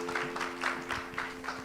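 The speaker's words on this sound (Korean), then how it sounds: "박수." Applause from an audience at a Korean church parents' faith-education closing worship service, a steady moderate patter of clapping over a constant electrical hum, with no talking.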